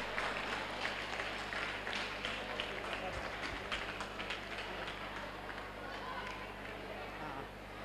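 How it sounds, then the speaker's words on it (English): Steady applause from a crowd at a chess tournament prize distribution, dense clapping that continues for several seconds with voices mixed in. "Give him a big round of applause."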